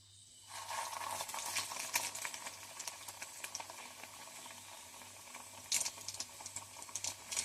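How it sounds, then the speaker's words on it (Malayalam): Bread-pocket shawarma frying in a pan, a soft sizzle that starts abruptly and holds steady with light crackles and a few brief louder bursts, faint and close, with no voices. "ഇനി നമുക്ക് ബ്രെഡ് പോക്കറ്റ് ഫ്രൈ ആക്കി എടുക്കാം."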